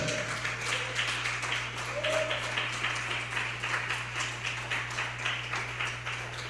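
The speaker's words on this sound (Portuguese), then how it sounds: "Diga glória a Deus e aplaude o Senhor bem forte." A church congregation applauds during a worship service, steady crowd clapping heard at moderate distance over a constant low hum, with faint voices mixed in.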